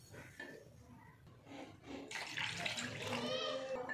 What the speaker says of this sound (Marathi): आता याच्यामध्ये ना पाणी घालून घेते.